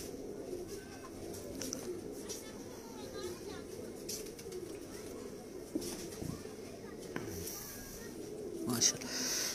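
Teddy pigeons coo and rustle softly in a loft, with occasional fowl clucks in the background, while someone talks over them throughout.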